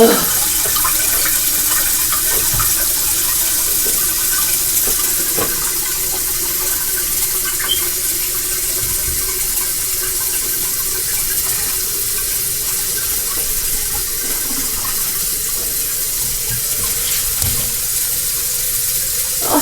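Water runs steadily from a tap that is not supposed to be flowing, a continuous broadband rush with no talk over it.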